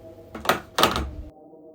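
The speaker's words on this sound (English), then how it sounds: "unlatching the door." An indoor door in a house lobby is unlatched and swung open, two short clunking bursts close by, followed by quiet room tone.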